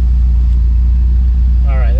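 Subaru STI with big injectors, no tune and a new exhaust running very rich, a steady loud close engine rumble at idle, with a brief rising whine near the end.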